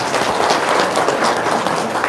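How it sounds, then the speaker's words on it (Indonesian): Applause from a seminar audience, a dense, even wash of many hands clapping at once, loud and continuous throughout without any speech. "Tepuk tangan dong."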